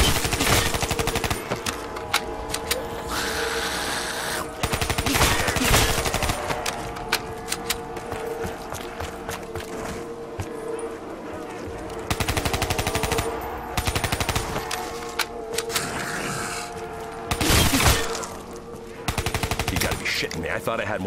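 Gunfire rattles through a zombie fight in Call of Duty: Black Ops 3 Zombies, long bursts of rapid automatic shots broken by brief pauses, loud and close, with game voices and music mixed underneath.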